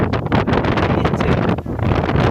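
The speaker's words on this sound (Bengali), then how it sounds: "হাওয়া দিচ্ছে তো খুব" Strong gusty wind buffeting the microphone outdoors, a loud continuous roar that surges and dips without a break.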